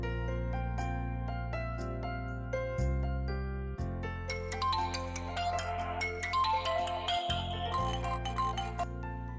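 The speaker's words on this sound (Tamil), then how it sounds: "சிவா பாஸ்க்கு ஒரு ஃபோன் பண்ணலாம்" A phone ringtone plays on an outgoing call, a bright melodic electronic tune with chiming notes over low sustained tones, clear and continuous for several seconds.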